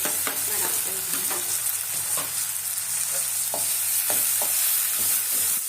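Chopped onion and tomato fry in a pan, a steady close sizzle with scattered scraping stirs and clicks throughout, no voices.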